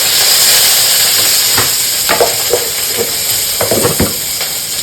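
Curry leaves temper in hot oil for a cabbage chutney, giving a loud, steady sizzling hiss with a few sharper crackles and pops as the leaves hit the pan.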